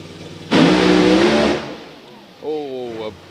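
Kevin Chapman's Thermareg Mustang funny car launching at a drag strip, a loud, rough blast of engine that holds about a second before dropping away, followed by a short, tonal rising engine note.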